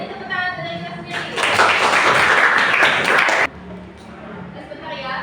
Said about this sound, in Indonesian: Oke, beri tepuk tangan dari kita sendiri